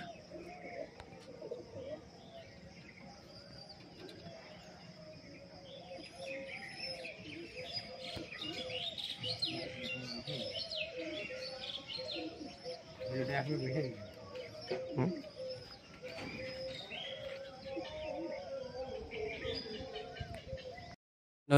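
Pigeons coo and chirp lightly as they land at a loft in Krishnanagar, a steady murmur of birds throughout, with someone talking over them much of the time.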